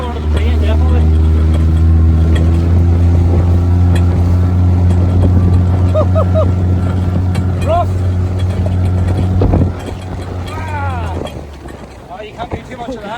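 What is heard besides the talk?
inflatable boat outboard motor at full throttle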